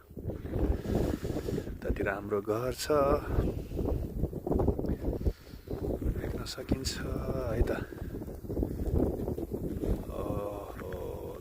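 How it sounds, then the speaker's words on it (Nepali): Strong, cold wind during snowfall in Rolla roars and buffets the microphone in a continuous, gusty rumble, while someone talks over it throughout. "हावा बेसरी चलिरहेको छ, एकदमै चिसो छ।"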